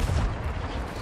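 Cannon fire aboard a ship in Sea of Thieves, heard as a dense, continuous low rumble of booms with a strong low-end thump near the start, loud and close, without talk.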